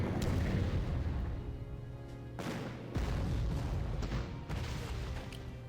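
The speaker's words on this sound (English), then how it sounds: "Let's take our big bomber, use it on the town." A bomber strikes a town in the World War II strategy game Panzer Corps, heard as a series of loud, booming explosions in quick succession, each blast rumbling before the next, with no voices.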